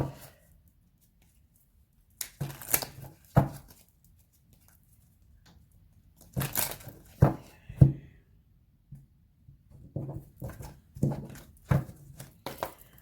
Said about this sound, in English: Quickly shuffle these ones and then we will start.